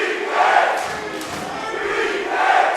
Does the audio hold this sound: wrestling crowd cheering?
yes